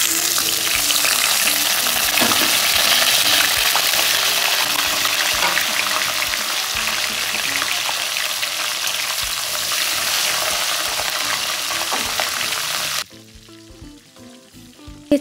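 Mustard oil sizzles and fries steadily in a hot pan, a loud continuous crackle with stirring, dropping away abruptly near the end to quieter clinks.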